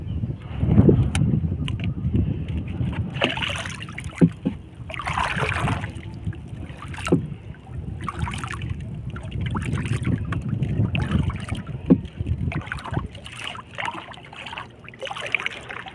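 Strong river current rushes steadily past a small boat or canoe, a continuous broadband wash of flowing water with gusts of wind buffeting the microphone and occasional knocks and splashes.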